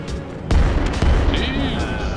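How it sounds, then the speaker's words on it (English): Holy hand grenade going off in a video game, a sudden heavy boom followed by a second blast and rumbling debris, loud and close, with a rising whistle-like tone trailing after. "Bruh, it's the holy hand grenade of Antioch."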